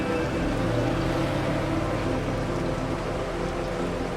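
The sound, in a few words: heavy rain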